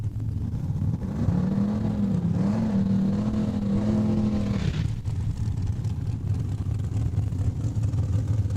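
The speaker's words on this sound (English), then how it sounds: "this is one nasty 89 twin-turbo Beretta" A 1989 twin-turbo Chevrolet Beretta race car at Saskatchewan International Raceway in Saskatoon, its engine holding a loud, steady rev that rises and wavers for several seconds, then drops back to a rough idle under the crowd and track noise.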